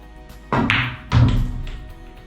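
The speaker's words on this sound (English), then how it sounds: "If we hit it with lighter speed, we should be able to come off this cushion somewhere here and roll in that direction" A billiard cue ball is struck at light speed with inside spin and rolls off a cushion. Two close, soft knocks land about half a second apart, with no talking.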